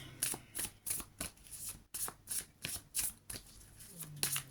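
Tarot cards being shuffled in a series of quick, crisp riffling bursts, close and fairly quiet, with brief pauses between shuffles and no talking.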